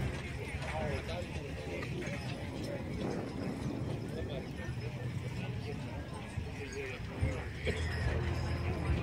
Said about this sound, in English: Two mule teams on the show wagons.